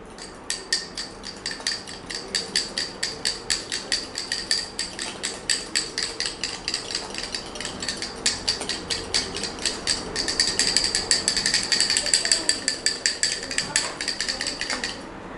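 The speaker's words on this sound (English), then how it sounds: "Now I need to whisk this." Oil, vinegar and egg yolk are whisked together in a cup, giving a steady run of quick, bright clinks as the whisk strikes the cup's sides, with the strokes growing busier and louder toward the end.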